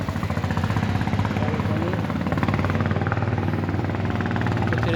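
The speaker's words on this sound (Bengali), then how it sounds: "ওই যে একটা স্টিমার আসতেছে বড় একটা ট্রলার" A large trawler steamer approaching on a river near a bridge, its engine a loud, steady rhythmic low-pitched thumping that holds close and constant throughout.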